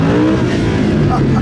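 A Lamborghini Huracán LP610-4's engine revs loudly from inside the cabin on a Stockholm street, a brief rich growl with rising harmonics, close and dominant.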